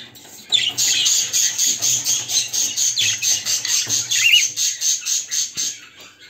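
Two-month-old pet bird chicks in a cage chirping in a fast, regular series of high squeaky calls that pulse steadily and closely from start to end.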